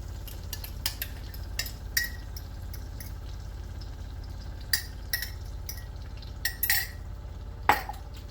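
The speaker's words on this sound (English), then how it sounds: "I have 4 eggs scrambled up, and I'm just going to add them to the pan." Beaten eggs poured into a pan and stirred, with scattered light metallic clinks and scrapes of a utensil over a low steady background, close and fairly quiet.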